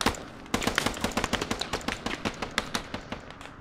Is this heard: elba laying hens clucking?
no